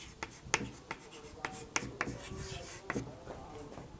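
Chalk or marker scratching and tapping on a board while a physics question on electrostatics is written out, short irregular strokes close by, with someone talking throughout.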